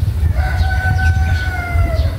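A rooster crows once in a long, drawn-out call over a steady low rumble of background noise.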